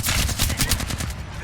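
Rapid automatic gunfire in the video game Apex Legends, a fast loud burst of about a dozen evenly spaced shots crackling close up without pause.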